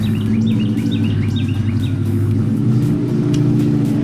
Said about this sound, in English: Sounds like a Mustang. Oh, it was a Ford though, but it was not a Mustang.